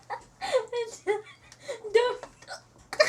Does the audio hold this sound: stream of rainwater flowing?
no